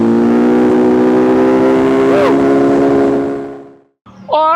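An MV Agusta Brutale 1000 motorcycle engine drones loudly at steady revs, then fades away to near silence before a brief burst of revving returns near the end.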